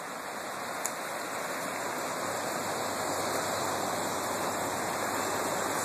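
Flooded Deer Creek pouring over a wooden dam, a steady broadband rush of water that stays constant and moderately loud from start to finish, with no voices.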